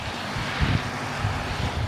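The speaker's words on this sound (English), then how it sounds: "Even on a wild and windy day" Steady wind roars and buffets across the microphone at an outdoor event in Grand Marais, with low rumbling gusts throughout.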